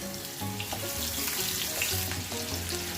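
Onion frying in hot oil for bagoong in pork kare-kare, a steady close sizzle with intermittent stirring scrapes and clinks, short and continuous, no voices.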